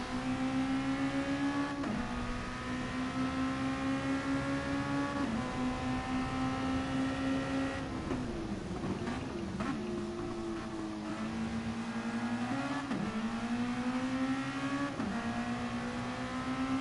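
A racing car engine in a driving game holds a steady high drone, then drops through several quick downshifts and revs back up with sharp pitch jumps before another run of gear changes. It is loud and continuous, with no talk.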